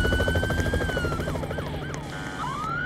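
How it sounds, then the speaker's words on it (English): A helicopter in the Roblox police roleplay game ERLC thrums with a steady rotor chop, alongside rising and falling siren-like wails, loud and continuous throughout. "Oh, but there's certainly a helicopter."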